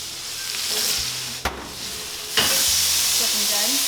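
A steak sizzles steadily in a hot pan, a continuous broad crackling hiss broken by a couple of brief clanks, then it grows louder after about 2.4 seconds.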